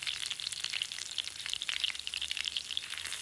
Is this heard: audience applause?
no